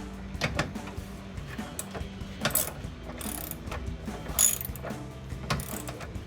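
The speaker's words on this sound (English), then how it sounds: "Go ahead and put an extension on this ratchet so I can reach that a little more" Close, busy ratchet clicking in short runs from a socket wrench fitted with an extension, loosening hardware on a Jeep Gladiator JT's plastic stock bumper, with intermittent metallic clinks in between.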